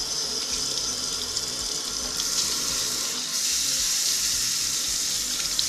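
Kitchen tap running cold water over hot cooked beets during peeling, a steady bright hiss of flowing water that stays close and even throughout, shifting slightly partway through.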